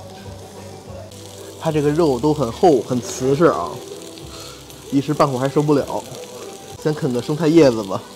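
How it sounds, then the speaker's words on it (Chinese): Thick raw meat sizzling on a hot pot grill, a steady crackle running low under a person talking nearby through most of the stretch. "这滋滋冒油的声音，"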